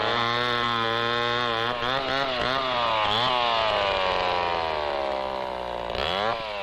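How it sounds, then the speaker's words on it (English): A chainsaw cuts into a Brazil nut lumber tree in the Amazon rainforest, its engine whining loudly and continuously, pitch dipping and rising as the blade bites and frees. "Ludwig's first move at Jari was to cut down a few of the good lumber trees, like this Brazil nut."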